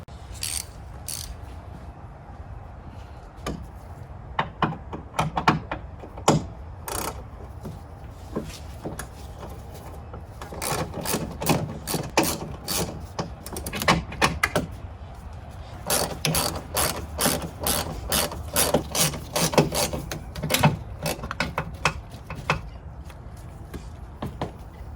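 Hand ratchet loosening 13mm bolts on a Dodge Ram 5.7 Hemi radiator, rapid clicking bursts of varying length separated by pauses and soft shuffling, close and moderately loud with no speech.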